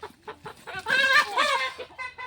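A native desi chicken being chased around clucks and squawks nearby. Short clucks build into louder, agitated cackling bursts, then fall back to brief clucks.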